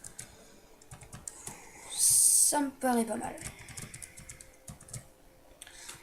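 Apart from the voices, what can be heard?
computer keyboard typing and mouse clicks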